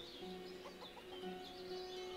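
Chickens clucking in the Ostriv village-building video game, a few short soft clucks and calls over a quiet ambient background.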